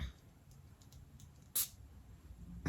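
A spray bottle gives a short, close hiss of mist about halfway through and a second brief spritz at the very end, against quiet room noise.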